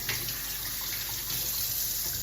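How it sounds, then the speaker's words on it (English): Running water splashes and streams steadily, close by, rinsing conditioner from a human hair wig under a tap, with no voices. "I'm just going to gently rinse again, running my fingers through it"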